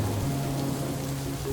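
Cartoon rain effect for a Peppa Pig scene: a steady, dense hiss of falling rain with a low rumble underneath, continuous and even throughout.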